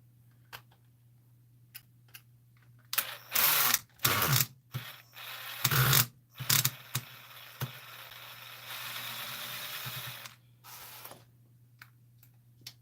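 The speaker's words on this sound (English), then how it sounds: "So I'm just gonna take my driver." A driver removing the screws of the receiver box on an Axial Deadbolt RC truck: close, crisp ratcheting clicks in short separate bursts with quiet pauses between, and one longer steady stretch near the end.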